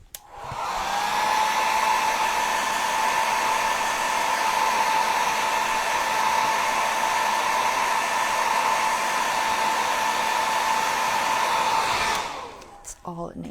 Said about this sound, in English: I'm just going to hit it with my blow dryer real quick.